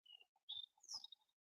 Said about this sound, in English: you hear the birds and stuff